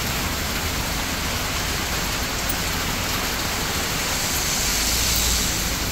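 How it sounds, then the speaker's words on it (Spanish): Heavy rain from a strong storm in Usulután, El Salvador, pours down in a dense, unbroken hiss, steady and loud throughout. "se vino algo fuerte el agua"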